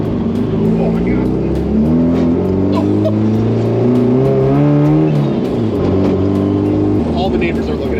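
A manual-transmission drift car is driven on a public road, its loud engine rising and falling in pitch as it revs and shifts through gears, close by and continuous.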